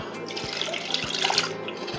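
Coconut water trickling and splashing as it is strained and poured into a bowl, a steady close liquid pour with faint taps and drips, no talking.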